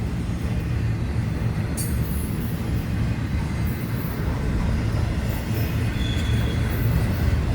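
An FEC Railway freight train with lumber flatbed cars rolls past at speed, a loud continuous low rumble of wheels and cars with faint high squeals overhead, steady throughout.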